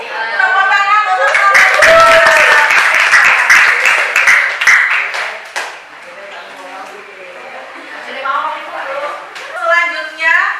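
A classroom group applauds in a short burst of clapping, loud and close, fading after a few seconds into people talking.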